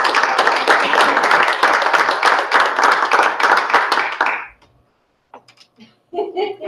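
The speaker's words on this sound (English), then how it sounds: "You got a little round of applause." Applause at a regional school committee meeting, a close, loud burst of clapping from a small group lasting about four seconds before stopping abruptly, followed by a few quiet sounds.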